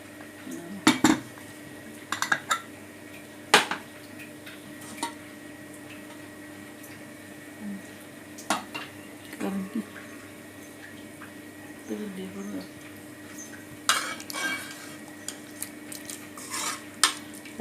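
Metal clanks and scrapes as a pressure cooker lid is handled and opened after cooking beef curry, a few sharp knocks scattered over a low, steady kitchen hum.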